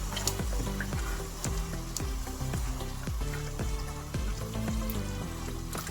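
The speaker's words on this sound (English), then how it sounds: "Mescolo, I'll give it a mix." Food sizzles and fries in a pan as a utensil stirs it, scraping in a steady repeating rhythm over six seconds with no talking.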